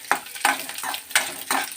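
Tempering spices sizzle in oil with garlic slices while being stirred, making four or five rhythmic scraping bursts over a soft frying hiss, close up and free of talk.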